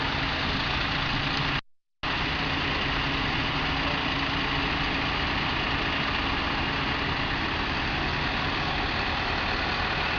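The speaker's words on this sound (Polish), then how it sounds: "W tej chwili przed nami przejeżdżają maszyny o nazwie 710DT" Heavy diesel 710DT tractors rumble steadily past close by, a continuous low drone broken by one short gap near the start.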